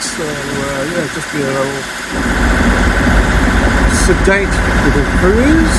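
A boat's engine motors steadily across a channel in a gentle southerly breeze, a continuous low drone that grows louder and fuller partway through, running under a voice.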